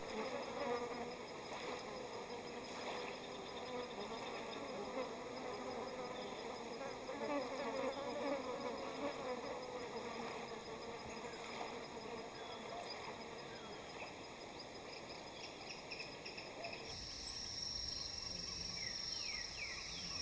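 Flies buzz around a rotting carcass in the Amazon rainforest, a soft, continuous drone of many insects with occasional louder passes close by, a few faint bird calls behind, and no voices.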